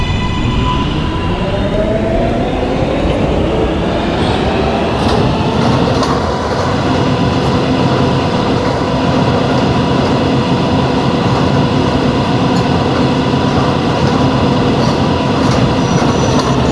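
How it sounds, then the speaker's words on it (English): An R143 R local subway train runs between stations and is heard from onboard. A loud, continuous rumble carries a rising motor whine and rhythmic wheel clatter for the whole stretch, with no voices. "This is a Myrtle Avenue bound R local train."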